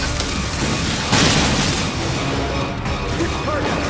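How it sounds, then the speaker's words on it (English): Samus fires a missile at a frozen weak spot during the Brug Mass boss fight in Metroid: Other M, a loud booming blast over continuous dense game noise. "And Samus, you attack the frozen spot! Now, use your missile!"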